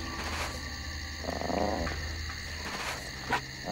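A rat in the video game Gothic 2 gnaws and growls, a low continuous growling rumble with some brief louder bursts, heard alone without talk over it.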